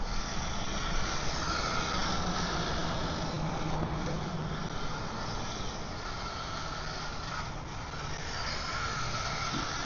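A Losi Asphalt Late Model Grom RC car runs at full throttle, giving a continuous loud buzzing motor whine and rushing noise that holds steady throughout, with no voices.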